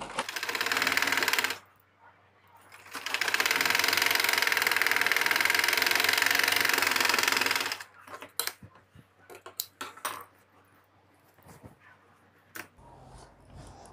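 A sewing machine sews a trouser pajama seam with a short burst followed by a longer steady run, close by, then stops and is followed by scattered handling clicks and knocks.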